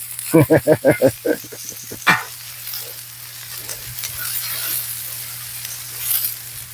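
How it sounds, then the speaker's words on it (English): Onions sizzling loudly on a hot Blackstone griddle, opening with a quick run of rhythmic scraping strokes, then a steady crackling hiss. "Listen to that sizzle."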